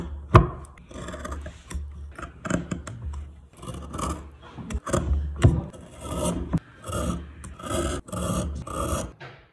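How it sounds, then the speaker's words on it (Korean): Knife or carving tool scraping and shaving a block of wood while a seated Bodhisattva statue is being carved, with steady rasping strokes repeating in quick bursts, close and clear. "조각이란 건 이런 식으로 원하는 모양이 나올 때까지 필요 없는 부분들을 깎아나가면 됩니다"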